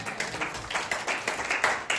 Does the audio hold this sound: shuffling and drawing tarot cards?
no